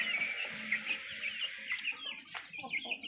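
Pakhoy chickens clucking softly in a coop, a run of short, close clucks over a faint steady background hum, with a little murmured voice behind.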